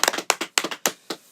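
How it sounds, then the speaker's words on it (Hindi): Scattered audience clapping at a Hindi celebrity interview with a singer, arriving as several short, close bursts of hand claps with brief gaps between them and no talk over them. "तालियां नहीं बजाइए"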